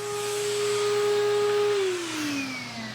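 An OG Vacuum Solution vacuum cleaner whines steadily up close while cleaning Alcantara upholstery, its motor tone holding level and then dropping in pitch as it winds down.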